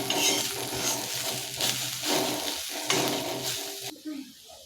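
Besan-coated bhindi (okra) being stirred in a pan after chopped coriander goes in, with close scraping and sizzling strokes in bursts that stop near the end, leaving quiet background.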